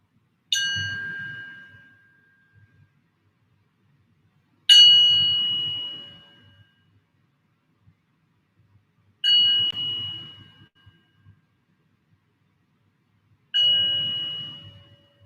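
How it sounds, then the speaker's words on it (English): A meditation bell is struck to open a yoga practice, four clear resonant strikes spaced several seconds apart, each ringing out and fading slowly into quiet. "I'll ring the bell to invite us into our practice and help us tune in to the space."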